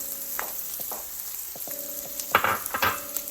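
Garlic hits a pan of hot olive oil and sizzles with a steady hiss, while a few close utensil taps and stirring scrapes sound near the end.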